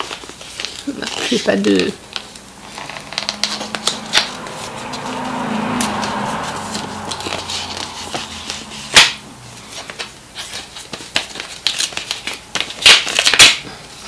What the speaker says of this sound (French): je l'ouvre la petite carte